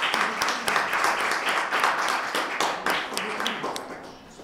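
Audience applause at a talk, a steady patter of many hands clapping at moderate volume, with murmuring voices underneath.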